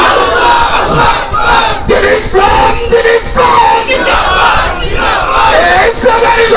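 A large crowd roars a unison chant in response to a takbir call at a gathering, repeated voices surging together in loud, sustained waves of shouting throughout.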